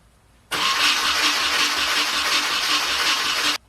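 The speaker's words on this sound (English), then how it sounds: "we're gonna crank it a few times to get the oil pressure up" A KA24DE engine in an S14 240SX cranks over on the starter with the fuel pump relay unplugged. A steady, loud whirring churn holds for about three seconds and then cuts off cleanly, with no firing or catch.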